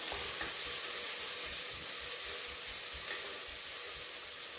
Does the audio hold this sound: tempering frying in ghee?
yes